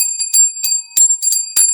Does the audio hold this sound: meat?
no